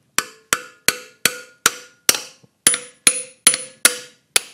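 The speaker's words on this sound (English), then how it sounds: "Have to give the valves a couple of taps." A metal hammer taps on the valves of a stock LS engine head with a spring compressor fitted, giving eleven sharp, evenly spaced ringing strikes, close and alone with no talking.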